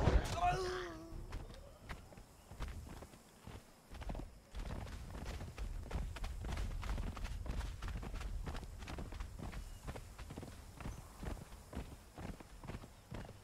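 Horse hooves clip-clopping in a video game, a steady run of rhythmic hoofbeats continuing for several seconds, moderately close, with a brief whinny-like sound near the start.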